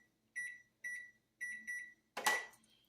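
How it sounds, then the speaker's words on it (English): A kitchen timer chirps in short electronic beeps while being set, four quick button beeps followed by a louder chime, clear and close in a quiet kitchen during homemade yogurt making. "Now what I'm going to do is I'm going to set the timer for 30 minutes."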